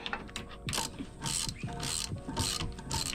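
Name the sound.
ratchet undoing the last nut on a boat motor's bolts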